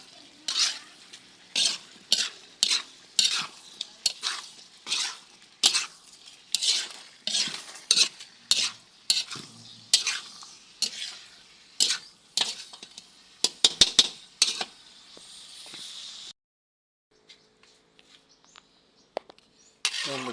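Squid balls frying in a pan for pancit bihon, stirred with a metal utensil in a long run of rhythmic scrapes and clanks, close and fairly loud, followed by a brief near-silent pause and faint light sounds.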